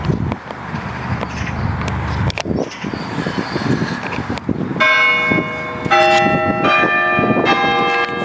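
Church bells ring out over a graveyard, loud and near, entering midway with sustained overlapping tolls after a stretch of outdoor ambience with passing traffic.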